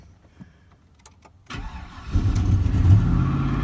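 A 2000 Chevrolet Silverado pickup, fresh from a spark plug and thermostat change after sitting a few days, cranks briefly and fires on the first try, then settles into a loud, rough, rumbling run up close.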